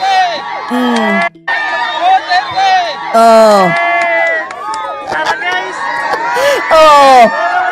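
A large outdoor crowd at a political gathering, loud, continuous shouting and cheering with many overlapping voices and rising yells, close and dense, with near voices calling out over the roar.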